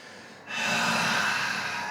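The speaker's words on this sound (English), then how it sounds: "Let's take a deep inhale. Exhale through your mouth." A deep exhale through the mouth during a live vinyasa yoga class, a soft breathy whoosh that starts suddenly after a quiet moment and holds steady for over a second.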